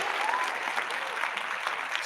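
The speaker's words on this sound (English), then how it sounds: "give yourself another round of applause" A podcast applause sound effect plays as a steady wash of many hands clapping, even and continuous for about two seconds, moderately loud and without a break.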